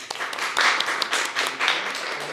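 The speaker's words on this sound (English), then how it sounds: "Can you applaud if you have been to an improv show before?" An audience at an improv comedy show gives a short burst of scattered applause, close and moderately loud, with a few sharper claps standing out before it fades.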